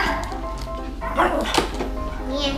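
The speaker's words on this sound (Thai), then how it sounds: "เดี๋ยวโมจะเห่าถ้าเจอของแปลกๆ" A dog barks and yips at something unfamiliar, short sharp sounds near the middle, while people talk over a steady low background hum.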